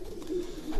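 Racing pigeons in a breeding loft give a soft, steady low cooing that runs the whole moment, close and moderately loud with no talk.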